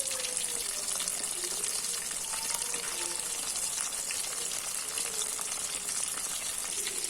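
Rava-coated bangda fish frying in a pan, a steady, even sizzle with a watery hiss that runs continuously throughout at moderate level, no voices.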